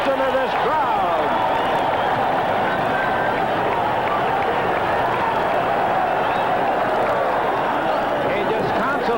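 A boxing arena crowd roars steadily after a knockdown, a dense, loud, sustained wash of cheering and shouting with no breaks, with a commentator's voice blended in underneath.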